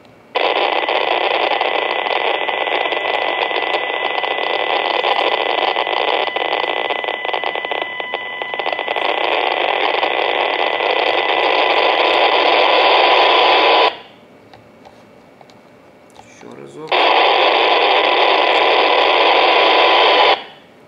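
A Kenwood NX-3000 NXDN/DMR handheld radio's squelch opens on interference, releasing loud, steady hiss for about fourteen seconds, then cutting to near silence before the noise bursts back on.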